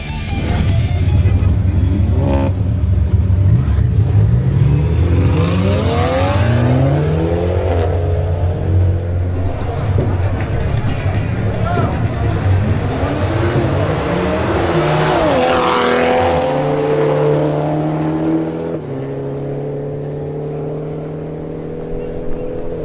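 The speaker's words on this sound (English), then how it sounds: "Now we have Julio Castro in his BMW M240i xDrive making another run." A BMW M240i xDrive makes a drag race run, its engine roaring loud and close with rising revs and gear changes for about twenty seconds, then easing off near the end.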